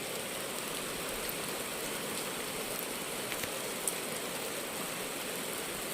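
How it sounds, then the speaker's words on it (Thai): Steady rain falling, a dense even hiss with occasional brighter drop taps, constant and fairly close throughout. "มื้อนี้มีฝนตก"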